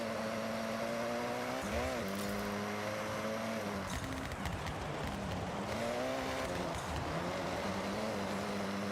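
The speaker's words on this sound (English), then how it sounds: "This car just sounds good." A car engine in a racing video game, running the stock exhaust, revs steadily with its pitch rising and falling between gear changes, fairly loud throughout with a voice talking over it at times.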